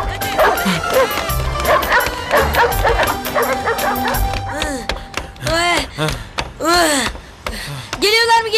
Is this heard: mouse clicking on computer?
no